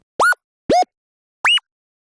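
Wip/woop synth playing three short staccato MIDI notes, each a quick upward pitch swoop with a bright buzzy harmonic tone, separated by silence.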